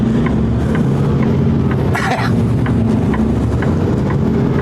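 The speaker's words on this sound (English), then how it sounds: "the first car that comes over the crest of the hill has to make a right here" A car crests a hill on a hot day, a steady close engine and tire rumble holding for the whole stretch with a brief louder swell near the middle.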